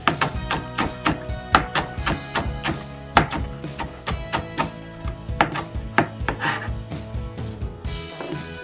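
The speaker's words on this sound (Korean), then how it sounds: "여기다가 청양고추도 좀 썰어 넣을게요" Knife chopping Cheongyang chili peppers on a cutting board for a garlic-leaf side dish, a fast run of crisp close taps with steady rhythm and a brief pause near the end.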